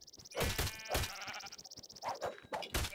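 Sheep bleating in Minecraft, several short wavering bleats in quick succession, close and clear over faint game background.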